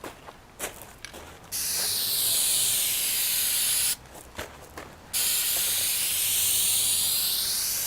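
An aerosol spray paint can coats the chrome trim on a Mini Cooper S in two long, close, even bursts of hissing spray, separated by a short gap with faint handling noises.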